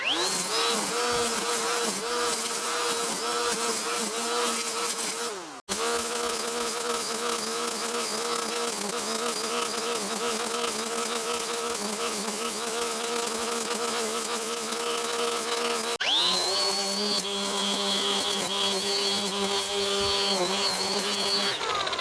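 A Makita split-shaft edger attachment runs at top speed outdoors with a loud, steady, high-pitched motor whine and buzz. It holds nearly constant, with one brief dip as it bogs and recovers, and no talking.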